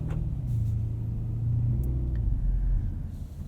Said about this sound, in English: Setting off, this 580 is just so smooth. It has the Biturbo V8